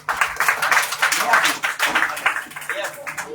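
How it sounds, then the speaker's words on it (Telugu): An audience at a PYPA community meeting claps for Abhi before his English song. The claps are steady and rhythmic, moderately close, with a few quicker patters as they fade. "అభి కారణం వచ్చి చప్పట్లు కొట్టండి"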